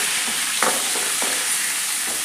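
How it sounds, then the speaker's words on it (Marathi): Masala-stuffed brinjals sautéing in oil on medium heat, a constant bright sizzle broken by a few sharp spatula scrapes against the pan, close and fairly loud. "आणि तेलामध्ये वांगे छान असे एक मिनिट भर परतून घेऊया"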